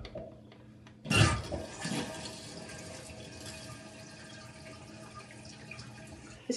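Water rushing through newly installed crimped bathroom plumbing as a valve opens, a sudden loud gush that settles into a steady close hiss.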